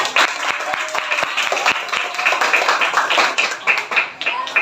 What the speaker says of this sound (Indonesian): kita beri tepuk tangan untuk Gilang